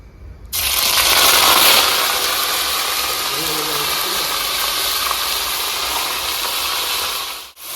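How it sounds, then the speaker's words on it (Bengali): Chicken frying in a pan for a village-style burnt-spice chicken dish: a loud, steady sizzle and hiss starts abruptly after a half-second of quiet, then continues close by without pause until a brief dip near the end. "এবারে আমি চিকেন ফ্রাই করে নেবো"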